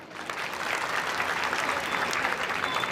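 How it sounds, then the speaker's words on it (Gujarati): Strong, continuous applause from a seated audience at a village gathering, dense hand clapping that stays level and bright from start to finish with little talk. "તમારા માટે જોરદાર તાળીઓ થઈ જાય."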